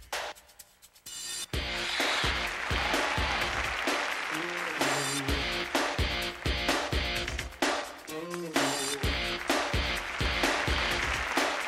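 A large arena crowd at a figure skating event bursts into sustained, loud applause after a performance, with clapping and cheering continuing throughout.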